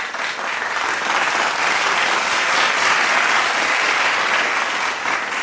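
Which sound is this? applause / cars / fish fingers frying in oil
applause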